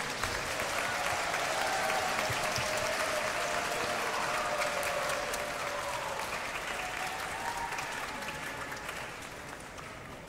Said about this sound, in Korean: 교장님 나오실 때 우레와 같은 축하의 박수 부탁드리겠습니다.